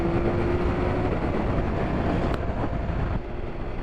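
MV Agusta F3 Rosso 2022 motorcycle accelerating hard in fourth gear, a steady loud engine drone mixed with heavy wind rush, easing slightly near the end.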